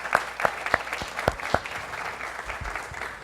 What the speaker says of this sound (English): round of applause for all of our school board candidates